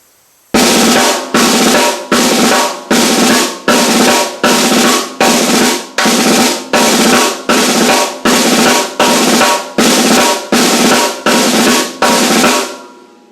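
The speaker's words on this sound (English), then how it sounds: "we'll do a basic phrasing of just the six-stroke triplet, repeated over and over again" Six-stroke roll triplets on a snare drum, played alone as a steady chain of about fifteen evenly spaced, sharp bursts, each decaying briefly before the next, close and loud.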